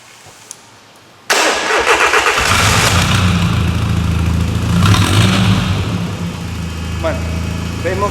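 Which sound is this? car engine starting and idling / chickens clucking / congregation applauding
car engine starting and idling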